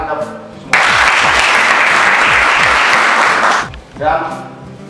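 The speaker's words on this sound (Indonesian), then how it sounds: "Baik, tepuk tangan kita semua." A classroom of police-school students bursts into applause, a dense burst of clapping lasting about three seconds, with a voice speaking just before and after it.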